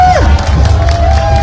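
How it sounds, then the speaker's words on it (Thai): A crowd claps and cheers loudly at a Songkran New Year ceremony at Wat Phra Singh in Chiang Mai. The dense, close applause and shouts are joined by a shrill whistle-like tone. "ขอเสียงปรบมือดังๆเลยครับ"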